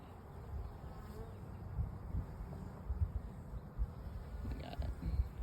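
Honeybees buzz in a continuous low drone around an opened garden hive during inspection, a close, dense swarm sound with soft handling thumps and no talk.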